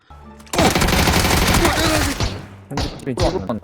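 Rapid automatic gunfire in a video game rattles loudly and continuously for about two seconds, then a few shorter bursts follow, with voices faintly mixed in.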